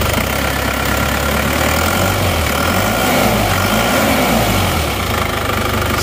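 A diesel car engine, freshly rebuilt with new piston rings and cylinder liners and showing a smoky exhaust, idles steadily and smoothly at close range with a low, even rumble and no talk.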